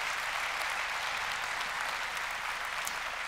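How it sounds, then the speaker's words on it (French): Audience at the AWS Summit Paris 2019 closing keynote applauds a startup award winner: steady, dense clapping from a large crowd, fairly distant and even throughout. "merci véritablement d'applaudir la société Clap"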